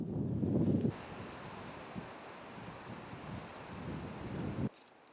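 Wind blows steadily along a fence line where dozens of people move, a hollow rushing noise that swells at the start and again near the end before cutting off.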